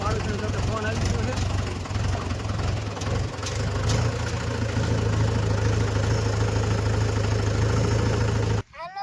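A farm tractor engine runs with a steady, low droning rumble that holds evenly for about nine seconds before cutting off abruptly.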